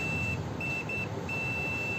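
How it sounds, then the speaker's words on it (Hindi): A multimeter's continuity buzzer sounds on a shorted transistor in a UPS DC/AC converter module under repair, giving a steady high-pitched electronic beep that stops and restarts several times over a low background hum. "बजर की आवाज आपको आ रही होगी"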